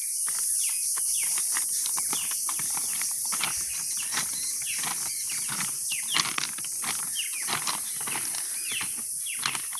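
Birds calling in forest beside the Dhaka–Mymensingh railway near Gazipur, with many short, faint chirps scattered throughout over a steady insect-like hiss and no voices.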